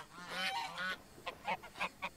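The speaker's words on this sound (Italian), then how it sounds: "dalla regia mandano il verso dell'oca" A recorded goose honking call sounds out: a few drawn-out nasal honks followed by a quick run of shorter honks, fairly faint and without talk.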